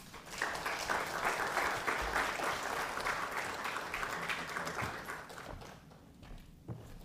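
Audience applause welcoming a speaker at a book talk, sustained dense clapping across the room that gradually fades near the end.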